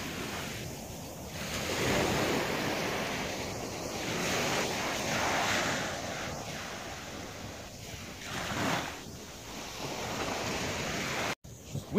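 Ocean surf rolls in at a Florida beach on a cold day, a steady broadband wash with repeated swells breaking close by, wind buffeting the microphone throughout and no voices.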